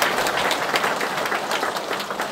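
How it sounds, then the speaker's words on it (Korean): A church congregation claps together at the close of a special revival week service, a dense, steady patter of many hands filling the hall without pause. "함께 박수하겠습니다"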